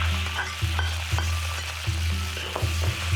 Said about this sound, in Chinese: 大概在5成油温的时候就可以下猪肉了